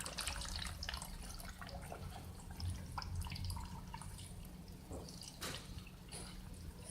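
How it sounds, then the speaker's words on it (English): Water trickles and drips steadily into a vase, a quiet continuous pour with scattered splashes and a low hum in the background. "start filling this vase with water"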